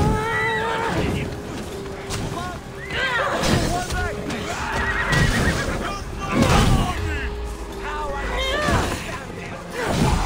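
Horses of mounted guards in Assassin's Creed Odyssey neigh and whinny repeatedly over clopping hooves, loud and close amid battle noise and voices, with several sharp whinnies rising out of the din.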